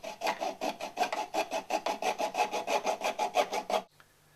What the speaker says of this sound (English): Just open up the outlets by sawing the ends off with a hacksaw.